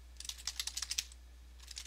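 A short burst of quick keystrokes on a computer keyboard, about a dozen light clicks in a fast run, then a pause and a few more taps, faint and close.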